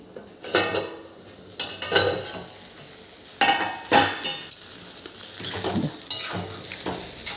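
Stuffed okra cooking in a pan is stirred with a utensil, giving several scraping, clattering strokes over a steady sizzle, close and fairly loud, with no voices.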